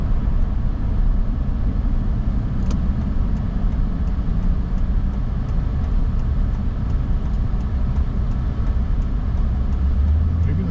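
Inside a moving truck, a steady loud low road rumble and engine drone carry on without a break, with faint ticking above it and no talking.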